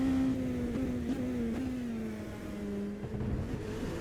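An LMP2 prototype race car engine in the sim racer AMS2 drones steadily close by, its pitch sliding gently down and then holding, with small blips and no voices.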